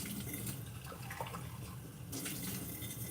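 Tap water runs steadily as a small champagne bottle is rinsed out, a continuous close splashing hiss with a brief louder gush near the end.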